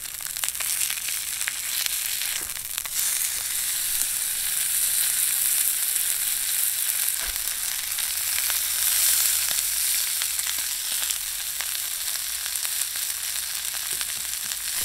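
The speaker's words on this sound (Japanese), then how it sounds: "ソロキャンプでこんなフライパンを使いながらじっくりステーキを焼くというのもかなり楽しめるんじゃないでしょうか。" Steak sizzles steadily in a mini iron plate pan over a campfire, a loud continuous hiss and crackle with occasional pops, no voices.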